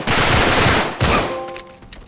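Rapid bursts of loud gunfire close by in Uncharted 3: Drake's Deception, a sustained volley that breaks off and then fades with a ringing tail.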